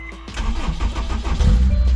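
A Honda S2000 with a long-standing starter problem cranks and catches, its engine firing up and revving loudly and close by right after a brief quiet moment.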